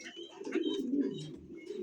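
Pigeons cooing steadily at close range, a soft, continuous low burbling with some faint chirpy sounds above it, as the birds dance and puff up in their loft.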